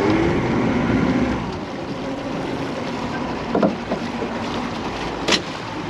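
A twin-engine crayfishing boat off Flinders Island, Tasmania turns on the water, its motor a steady, close rumble that eases off partway through, with a few knocks and splashes but no talk.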